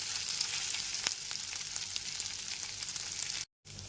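Ginger paste stirred and fried in a pan over a low gas flame, giving a steady close sizzle with soft spoon scrapes, broken by a brief silent gap near the end.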